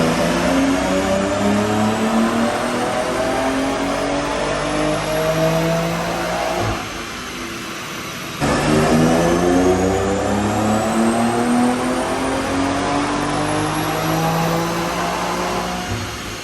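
A BMW X3 M engine with a stage one tune and downpipes revs hard on a dyno, its pitch climbing steadily through two long pulls separated by a brief drop, loud and close.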